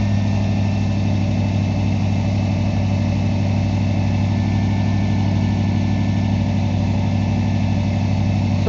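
A 1994 Ford F150 engine runs steadily after new spark plugs, a loud continuous low idle hum and drone with no stutter, close by and without talk.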